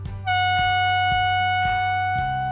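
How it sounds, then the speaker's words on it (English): A loud, sustained foghorn blast sounds as a workplace emergency signal, a rich harmonic tone holding steadily for about two seconds with a few rhythmic pulses in its low end and no talk. "In case of an emergency, we use foghorns."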